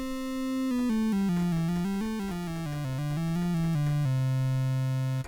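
Arturia Modular-V software synthesizer tone blending sine and pulse waves, a buzzy harmonic-rich note stepping through a short wavering melody before settling on a held lower pitch, clean and alone.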